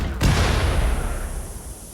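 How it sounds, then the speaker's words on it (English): Gunfire from the RimWorld video game: a single sharp burst followed by a rumbling, decaying roll of shots and blasts, fading over a couple of seconds with no talk. "Gunfire."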